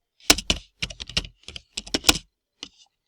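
Typing a job search into an online form on a computer keyboard: close, crisp key clicks in quick bursts with short pauses, ending in a lone final tap.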